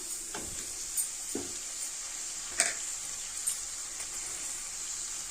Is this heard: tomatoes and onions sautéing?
yes